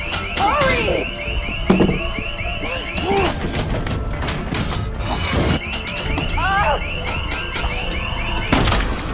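A safe's security alarm in The Walking Dead blares a loud repeating electronic siren with sweeping tones, running continuously beneath dramatic score, scattered thuds and crashes.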